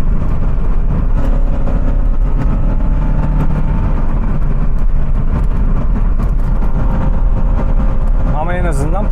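A car fitted with NGK BKR6EIX iridium spark plugs climbs uphill in third gear at full throttle, its engine roaring loud and steady throughout, with a brief rising whine near the end.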